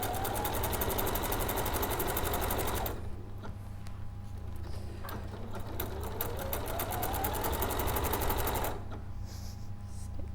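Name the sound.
sewing machine stitching fabric to the corner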